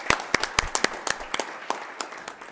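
An audience claps for conference interpreters at the close of a sessions day. The applause is sparse and uneven, made of distinct sharp hand claps from a modest crowd, fading slightly over the clip with no voices over it.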